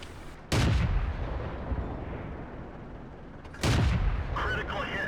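Two heavy tank cannon blasts in World of Tanks, each a sudden loud boom with a long rumbling tail, about three seconds apart.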